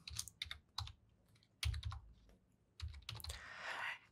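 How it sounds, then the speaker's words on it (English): Keys tapped on a computer keyboard in short irregular bursts with pauses, close and quiet, ending in a brief louder rustle. "type Explorer or explorer.exe and click on OK"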